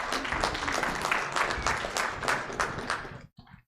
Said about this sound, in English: let's have a big round of applause for Phil Wilson